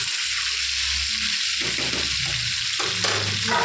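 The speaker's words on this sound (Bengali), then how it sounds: "কিছুক্ষণের জন্য একটু ভাজতে দেবো।" Pointed gourd and potato pieces fry in a pan with salt and turmeric, giving a steady, close sizzle and crackle throughout with occasional stirring and no voices.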